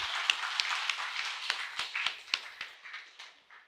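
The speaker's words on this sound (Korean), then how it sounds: "한울 장애인 자활센터 박수 한번 치고 시작할까요?" A congregation at a thanksgiving worship service marking the Hanul disability self-support center's 40th anniversary gives scattered, fairly quiet claps, about a dozen separate hand strikes in a loose, uneven rhythm with no voices.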